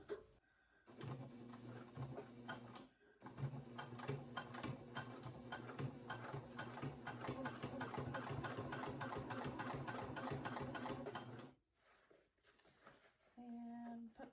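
A home sewing machine stitching through a thick fabric flap on a handmade book runs in a rapid, continuous rattle for about ten seconds, with quiet pauses before and after.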